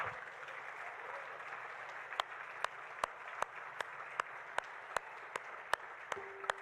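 A church congregation applauding during a sermon, a soft, distant wash of clapping with a few sharper, evenly spaced claps standing out near the front.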